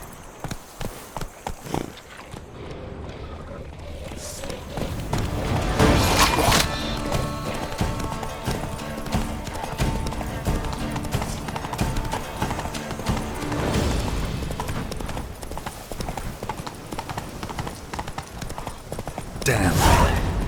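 Horse hooves galloping in the video game Witcher 3 (Blood and Wine), a loud, rapid clip-clop drumming that runs nearly the whole time amid game music and effects, with someone speaking briefly.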